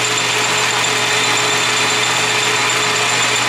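A South Bend lathe with a taper attachment cuts steadily, giving a continuous, loud mechanical hum with a low drone and faint high whine that holds even throughout, with no voices.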